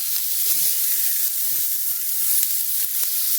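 Steaks sizzle steadily on a hot grill as they are turned, a constant close frying hiss with a few soft clicks and shifts of meat on the grate.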